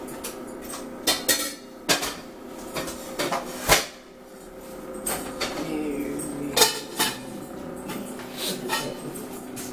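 Dishes and a bowl clink and knock in a kitchen while a bowl is rinsed, with scattered sharp ceramic and metal taps over a faint running-water background, moderately close and irregular.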